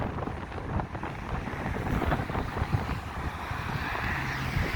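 Strong, biting wind gusting across Blackpool promenade by choppy seas, buffeting the microphone in a constant loud rumble with no talk.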